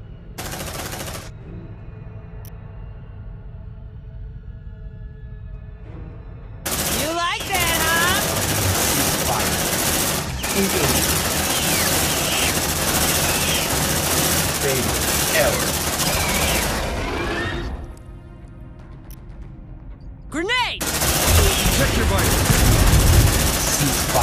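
Gunfire in the PS5 video game Aliens: Dark Descent: long, loud bursts of rapid automatic fire with brief lulls between them, accompanied by shouted in-game voices.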